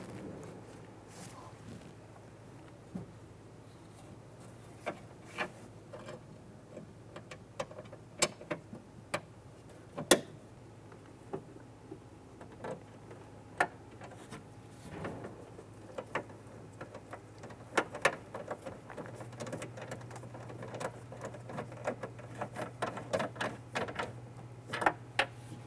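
On a 1995-2001 Ford Explorer, nuts are installed and tightened on rear power window regulator bolts, giving sparse small metallic clicks and taps scattered irregularly over a low steady hum, close and fairly quiet.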